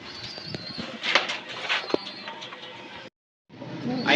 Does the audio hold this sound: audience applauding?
no